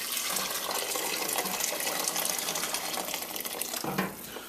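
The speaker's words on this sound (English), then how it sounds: "boiling water out of the kettle." Boiling water pours from a kettle into a soup pot holding coconut milk, a steady continuous splashing gush lasting several seconds, close and fairly loud, with a brief change in tone near the end.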